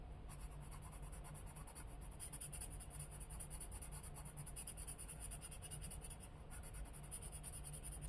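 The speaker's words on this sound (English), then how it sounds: "I'm going to go around it with a coloring pencil" Coloring pencil scratching on paper while outlining the edge of a flower, a faint, close, steady dry scratching with rapid repeated strokes throughout.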